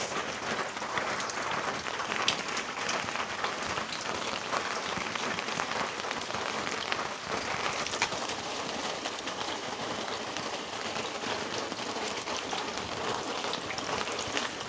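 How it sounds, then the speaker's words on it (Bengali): Steady rain falls on surfaces outdoors, a dense, even patter of drops that holds at a constant moderate level throughout with no voices. "আর এই বৃষ্টির আওয়াজ না আমার ভীষণ সুন্দর লাগে।"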